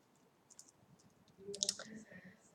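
Addi Click interchangeable knitting needles snap together in a few quiet, sharp clicks close by, with faint handling rattles in between, heard alone in a quiet room.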